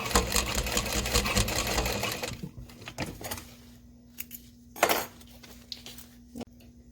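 A Juki 1181N sewing machine top stitching a bonded nylon backpack with Tex 90 thread, giving a fast, close mechanical rattle for about two seconds, then quieter handling clicks and brief stitching bursts.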